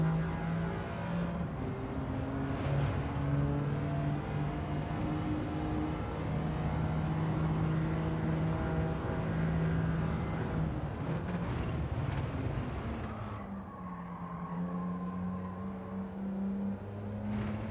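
Engine of a car in a racing video game time trial, a continuous harmonic drone whose pitch rises and falls with revving, dipping lower near the end and then climbing again.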